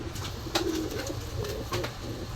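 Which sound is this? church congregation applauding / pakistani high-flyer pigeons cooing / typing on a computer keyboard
pakistani high-flyer pigeons cooing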